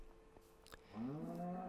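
A cow moos in the Minecraft video game, a single long, drawn-out low call that swells loudly after a brief soft click and holds steady to the end.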